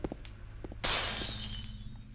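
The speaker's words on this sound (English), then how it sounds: "You can hear someone breaking a glass or something." Glass shatters suddenly partway through a Silent Hill 2 scene, a bright, crashing burst that decays into a long tinkling tail of falling shards, following a quieter stretch of low ambient game sound.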